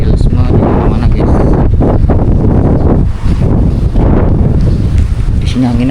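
Strong wind roars through an abandoned, vandalized Islamic Center building, a loud, continuous, gusty rush that fills the space from start to finish.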